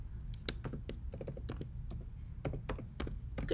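Mouse clicks and key taps on a computer during a lab walkthrough, a close series of sharp, irregular clicks over a low steady hum.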